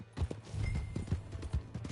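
Hooves clip-clop at a quick trot in Red Dead Redemption II as a stolen horse is ridden off, a steady close rhythm of impacts with a brief whinny-like tone mixed in.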